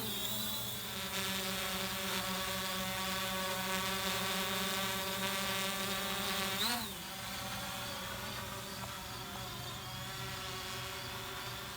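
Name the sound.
Xiaomi A3 drone taking off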